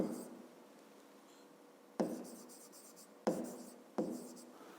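A pen writes numbers by hand on paper for a fifth-grade math exercise. Quiet, close scratching comes in short bursts, with each stroke starting sharply and then fading.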